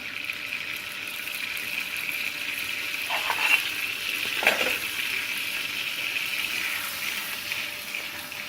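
Butter melting and sizzling in a pan for İskender kebab, a steady soft crackling hiss throughout with a couple of brief louder stirring or scraping moments.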